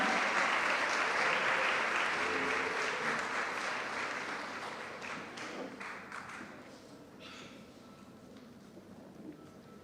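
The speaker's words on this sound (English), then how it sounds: "Let's give her a huge round of applause" Sustained applause from an audience at a national conference welcoming someone speaker, loud at first and gradually thinning out with a few scattered claps and taps near the end.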